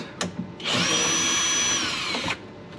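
A power tool driving a bolt on Porsche GT4RS aero parts being fitted to a 991 GT3RS, a single close, steady high-pitched whir lasting under two seconds, preceded by a couple of light clicks.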